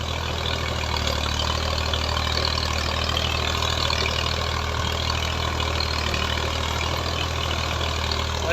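A Massey 240 tractor fitted with a 42-blade rotavator runs with a steady, loud diesel drone at constant pitch, an unbroken engine hum close to the microphone with no speech.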